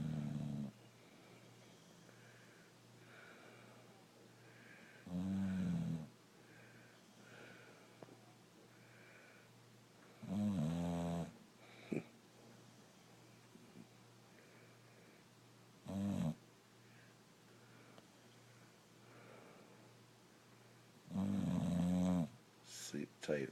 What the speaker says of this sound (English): Snoring away.